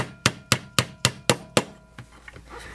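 Six sharp, evenly spaced metallic hammer strikes on a punch drive out a roll pin from a CZ Scorpion EVO 3 S1 magazine release, close and loud, followed by a few softer taps.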